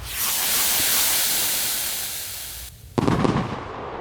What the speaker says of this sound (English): Let's salute the video with some nukes